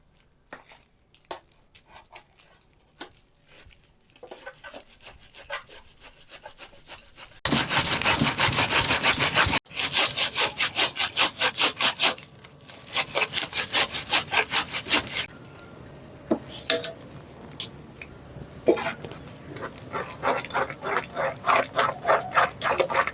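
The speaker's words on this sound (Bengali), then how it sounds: "এবারে নিয়েছি এদিকে এরকম একটা গ্রেটারের সাহায্যে ঘষে নেব।" Softened palm fruit pulp is rubbed against a hand grater in quick, rhythmic rasping strokes, close by. Some stretches are quieter and others louder and more continuous, and no voice is heard.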